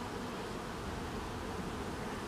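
Honeybees buzzing at a beehive in an apiary, a dense, steady swarm hum that holds evenly throughout with no voices.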